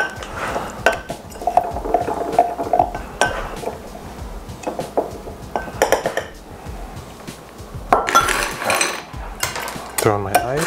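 Mint leaves muddled in a glass for a vodka soda, making repeated close clinks and scraping knocks against the glass in an irregular rhythm, with a louder clatter toward the end.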